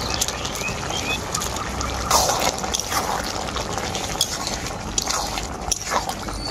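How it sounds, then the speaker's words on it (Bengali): Fried shrimp goes into a simmering bottle gourd (lau) curry, giving a steady bubbling and sizzling hiss with soft splashes and a slight surge partway through. "এখন ভেজে রাখা চিংড়ি মাছটা এর মধ্যে দিয়ে দেব।"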